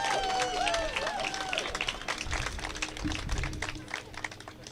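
An audience applauds law students at a public interest and pro bono graduation reception, the clapping rising over a lingering tonal sound and fading in scattered bursts.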